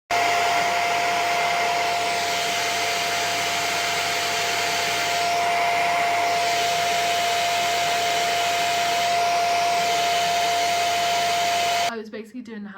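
A Hoover vacuum cleaner runs steadily at home, a loud continuous whine with a sharp steady tone and broad airy roar that holds unchanged for about twelve seconds before cutting off abruptly.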